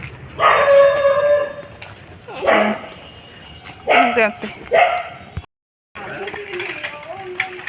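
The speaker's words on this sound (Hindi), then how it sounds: "उधर कुत्ता है ना, डॉगी, हम लोग को देखकर ऐसी चिल्ला रही है" A dog barks excitedly at passing people on an evening street, its loud, repeated barks and yips coming in bursts over a steady background hum, with voices talking nearby.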